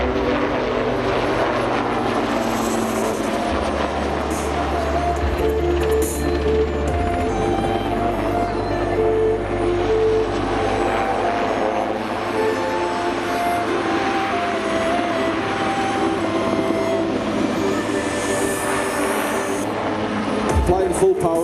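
Super Puma helicopter flying display manoeuvres at an airshow, a continuous loud rotor and turbine drone that shifts slowly as it climbs and turns, with a voice talking over it.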